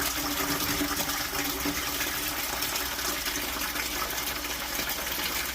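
Water draining from a utility sink through a newly installed sink pump, a steady, dense rushing and gurgling flow heard up close and without pause or talk.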